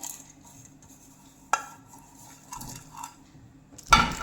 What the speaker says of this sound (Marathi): गोल आकाराचा टीन घेतलेला आहे, त्याच्यामध्ये थोडंसं तेल टाकून त्याला ग्रीस करून घेतोय